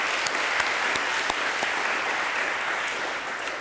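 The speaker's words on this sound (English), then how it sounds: "So just a round of applause for our public works crew, for the school district, for the volunteers." A crowd claps steadily at a city's State of the City address, a dense, sustained round of applause filling the room at even loudness, with a few sharper individual claps standing out.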